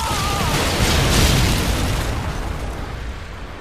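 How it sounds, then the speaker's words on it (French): A stun grenade goes off in Modern Warfare 2 on the Favela map, a loud close boom with a broad crackling burst that slowly fades over a few seconds. "Grenade paralysante."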